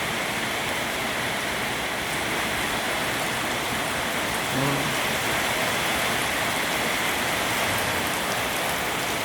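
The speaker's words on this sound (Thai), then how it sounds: "ฝนตกอย่างแรงเลยครับ" Heavy rain pours down at a house in hot weather in Thailand in a constant, dense roar, unbroken and loud the whole time, with a faint brief sound in the middle.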